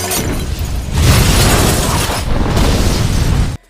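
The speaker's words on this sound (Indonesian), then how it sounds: "ledakan pun terjadi" A gas explosion: a loud, sustained explosive roar with crackling debris fills the space for several seconds, then cuts off abruptly.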